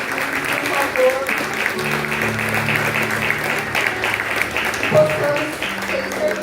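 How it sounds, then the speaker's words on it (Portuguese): A church congregation applauds in a worship service, steady crowd clapping that carries on throughout, with sustained musical tones from instruments underneath. "vou chamar uma salva de palmas"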